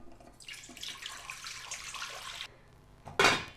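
Water is poured into a pot for cooking collard greens for a beef and greens dish, first as a steady two-second stream, then after a pause as a brief, louder splash.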